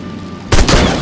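A headshot gunshot in the video game Sang-Froid: one sudden loud blast, close and heavy, with a booming tail that rings on after the quiet lead-in.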